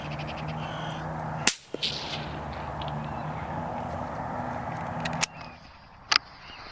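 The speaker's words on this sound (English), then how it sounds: "After the sound of the shot" A .17 Hornet rifle firing Nitro HV ammunition in the early-morning countryside gives one sharp, loud crack that cuts off abruptly. A second crisp snap follows several seconds later, with faint birds and quiet outdoor ambience around it.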